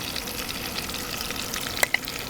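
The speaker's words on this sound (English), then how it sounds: "So I can start sauteing the vegetables." Onions and celery sauté in a 3-quart Instant Pot, a steady soft sizzle close by with a couple of brief clinks of a utensil near the end.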